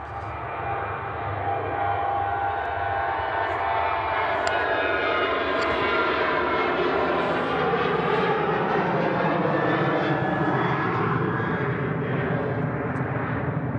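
A Qatar Airways Boeing 777 passes overhead with a loud, steady engine roar that holds for the whole stretch, broad and continuous without a break.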